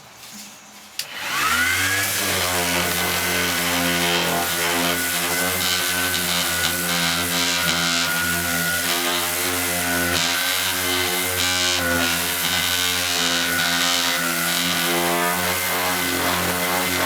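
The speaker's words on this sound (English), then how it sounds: "create a paste with the Danish oil and the dust that gets sanded up off of the veneer using the orbital sander" An orbital sander works veneer wetted with Danish oil, its steady loud whir starting abruptly after a brief quiet moment and running continuously with a stable tonal hum throughout.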